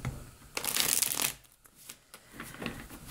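A tarot deck being shuffled close by, a loud rushing riffle of cards followed by a few softer taps and flutters as the deck is squared, no speech.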